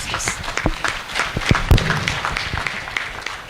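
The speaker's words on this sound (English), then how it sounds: "Another round of applause for the new doctors" At a medical oathing ceremony the crowd claps for newly sworn doctors, with scattered, uneven claps and a few sharp louder slaps over a busy hall and some movement.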